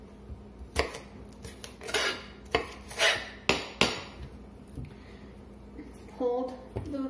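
Kitchen knife chopping through a rhubarb stalk on a cutting board, a series of crisp, fairly close thuds and knocks in an uneven rhythm, with a little faint background noise.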